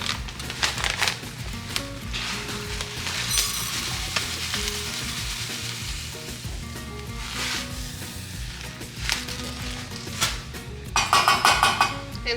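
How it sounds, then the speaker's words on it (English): TVP poured into boiling veggie broth in a pot, giving a steady bubbling sizzle with intermittent stirring and scraping clatters, louder near the end. "So the veggie broth is boiling and I'm just gonna add in 1 cup of the TBP."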